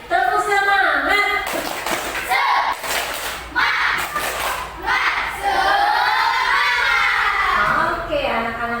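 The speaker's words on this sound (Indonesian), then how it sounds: "Tepuk semangat." A class of children doing a spirit clap, loud bursts of rhythmic clapping mixed with excited chanting and shouting voices, close and lively throughout.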